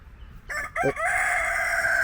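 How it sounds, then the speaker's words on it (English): A rooster crows nearby, a loud drawn-out cock-a-doodle-doo rising after a couple of short opening notes, holding steady to the end. "that rooster's happy"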